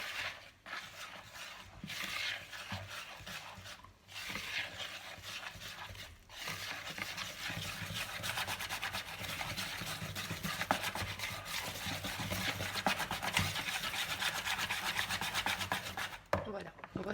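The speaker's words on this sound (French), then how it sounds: "Et je vais mélanger jusqu'à un mélange bien lisse" Flour being mixed into cake batter until smooth, a continuous close rubbing and scraping of a whisk or spatula in a bowl, steady and fairly quiet with brief pauses.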